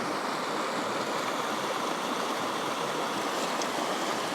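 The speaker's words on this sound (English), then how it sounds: "this is definitely the Lost Horse Creek" Lost Horse Creek in Banff National Park rushes along steadily, a loud, continuous close-up wash of flowing water with no pauses.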